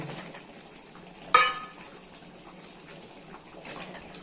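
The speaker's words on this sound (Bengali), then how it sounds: "এখন হচ্ছে জল দিয়ে দেবো ঝোলটা ফুটে এসছে" Fish curry gravy for aar fish kalia with potatoes bubbles and sizzles steadily in a pan after water is added, with a brief louder splash near the start and a soft continuous simmer throughout.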